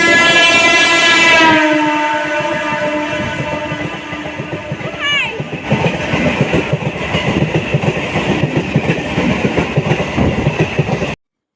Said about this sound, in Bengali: কারণ এখন একটা আসবে থ্রু ট্রেন